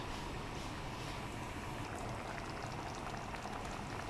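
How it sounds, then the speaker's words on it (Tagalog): Water is poured into a cooking pot while chicken ampalaya is prepared, a steady broadband wash of pouring and bubbling liquid that runs evenly for the whole stretch, close and moderately loud, with no talking. "Lagyan natin ng tubig. Ayan, ilagyan natin ng tubig."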